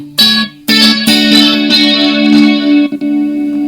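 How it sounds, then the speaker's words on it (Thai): Electric guitar played through an alternate delay type on a Tank G multi-effects pedal, with bright strummed chords and single notes followed by dense trailing echoes, loud and close with no speech. "เปิดประตูฝั่งนี้ปุ๊บจะเป็นดีเลย์อีกแบบหนึ่งจะมี 3 แบบให้เลือก"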